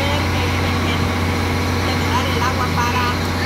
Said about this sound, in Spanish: están activando ya las plantas, los compresores